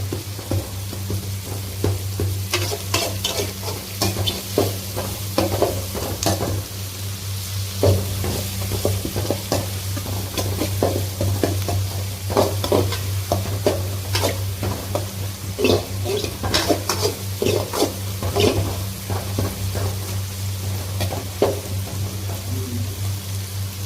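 Onions sauté in a pan for mutton curry, a dense continuous sizzle broken by frequent scraping stirs of a spatula, close and fairly loud throughout, with no talking.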